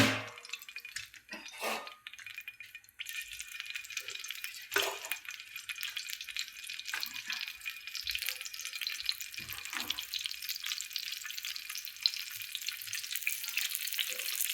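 Pieces of food slid into hot oil fry with a steady, bright crackle that holds for the whole stretch, with a few louder spits and splashes early on and no talking.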